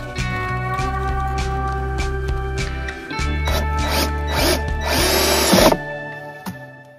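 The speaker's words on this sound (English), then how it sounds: "and then we'll be able to drill the hole" A power drill boring a hole in the casing of a Honda 2200i generator, a loud steady motor whine with brief pauses and a rising gritty burst as the bit cuts through, then it stops.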